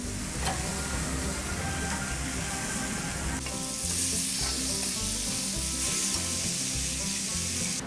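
Picanha beef searing in a frying pan at home, giving a steady, loud, close sizzle that runs unbroken throughout, with faint scraping stirs underneath and no voices.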